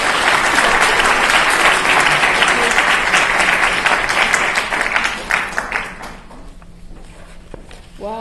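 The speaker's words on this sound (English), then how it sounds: "Please give me a big round of applause for Mrs." An audience applauds loudly in a lecture hall to welcome a presenter. The dense clapping thins out and dies away after about five seconds, leaving quieter room noise with a few stray claps.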